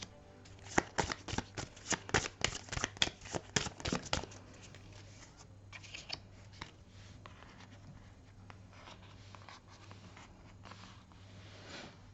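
Tarot cards being shuffled for a reading: a close run of quick riffling flutters over the first four seconds, then softer sliding and rustling of the deck, fairly quiet and with no speech.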